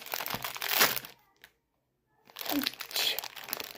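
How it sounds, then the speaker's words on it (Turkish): A Labubu blind box package being unwrapped close up: two bursts of crisp plastic and foil crinkling and tearing, separated by a short silent pause, with no talk. "Şimdi ikinci labubumuzu açıyoruz."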